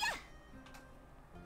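A cat in the video game Rune Factory 5 gives a short, high meow at the start, followed by faint, quiet game background sounds.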